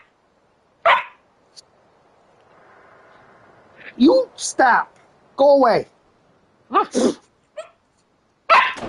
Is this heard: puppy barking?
yes